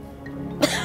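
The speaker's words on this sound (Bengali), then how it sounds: "এই কাশি তো সারে না রে মা" A woman gives a single short, sharp cough, close and loud, after a moment of quiet room tone.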